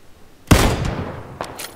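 A single loud, close gunshot in PlayerUnknown's Battlegrounds cracks and rings out, then two fainter shots follow in quick succession.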